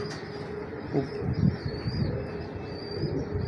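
Pigeons coo softly in low, throaty bursts nearby, with faint chirps and a steady background hum, no talking.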